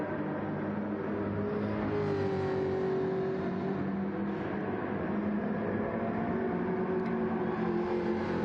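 Aston Martin GT2 race car in a sim racing league round at Barcelona, its engine a steady loud drone with a held then rising pitch as it pulls through gears, continuous and unbroken throughout.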